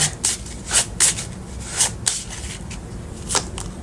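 Tarot cards being shuffled by hand, with a series of short, crisp riffling and rubbing bursts at irregular intervals, close up, with no talking.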